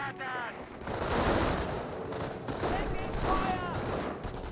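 Rapid gunfire in the real-time strategy game Company of Heroes, with dense bursts of machine-gun fire and battle noise running continuously under a commentator's voice.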